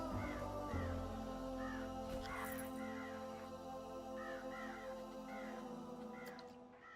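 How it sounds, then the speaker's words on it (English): Repeated crow caws from a placed crow in the theme-park game Planet Coaster, several harsh calls spaced through the clip over a steady background of park music and ambience. "Have a crow there."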